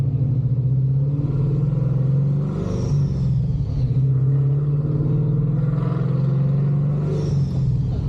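A Paxton-supercharged 5.0 Mustang V8 idles with a loud, deep lumpy rumble, then revs up briefly a few times over about eight seconds, heard close up with no talking.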